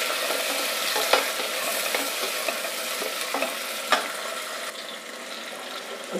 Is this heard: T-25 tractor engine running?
no